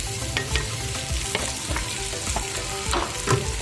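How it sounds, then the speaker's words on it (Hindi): Chopped tomatoes and green chillies frying in a pan, a dense close sizzle with regular scraping strokes of a spatula stirring, loud and steady with no voices. "टमाटरों को हम अच्छे से फ्राई करेंगे"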